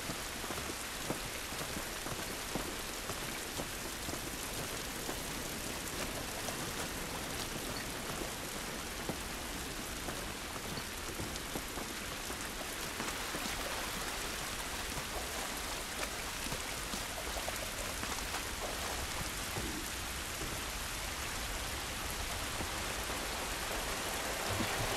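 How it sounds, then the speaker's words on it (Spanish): Steady, heavy rain pours in a video game in The Last of Us, a dense unbroken hiss of drops on surfaces lasting throughout with no voices. "Esta lluvia no nos ayudará."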